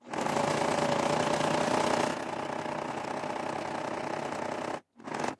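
A sewing machine runs steadily while stitching a finishing seam along the bottom edge of fabric, a close continuous mechanical whir that changes pace partway, pauses briefly, then resumes.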